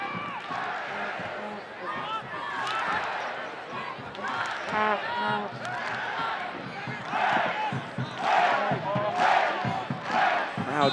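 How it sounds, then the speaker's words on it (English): Soccer crowd at a Pittsburgh Riverhounds match against the Charleston Battery urging the home side on late in the game, a steady roar of voices and chants swelling at times, with shouts and talk on top throughout. "Crowd trying to urge the Riverhounds on with under 20 minutes to go"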